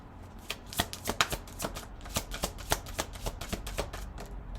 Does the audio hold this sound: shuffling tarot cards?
yes